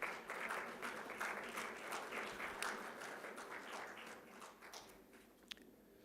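Audience applause at the Manav Rachna 2023 convocation medal award, a steady patter of many hands clapping in a hall that gradually thins and fades toward the end, with a single sharper tap near the close.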